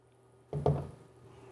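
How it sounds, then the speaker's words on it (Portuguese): A small splash of water poured into a hot cooking pan with shrimp for fresh pasta, a soft wet squish and patter followed by faint sizzling, close and quiet. "Eu vou fazer uma pequena adição de água, tá?"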